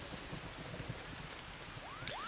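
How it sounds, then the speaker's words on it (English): Soft, steady rain from the video game Final Fantasy XIV falls as a quiet, even patter, with two brief rising tones near the end. "Now it's raining!"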